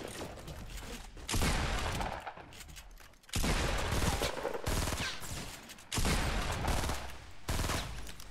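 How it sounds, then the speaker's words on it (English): Rifle and pump shotgun fire in Fortnite Battle Royale, with loud dense bursts of gunfire in several long stretches separated by brief quieter gaps. "I tried to double pump with my hunter rifle sniper"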